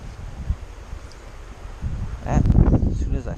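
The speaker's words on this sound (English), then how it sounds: "There is some wind here." Gusty wind buffets the microphone beside a river during a November fly-fishing outing on the Little Juniata, starting as low rumbling and growing into loud, roaring gusts in the second half.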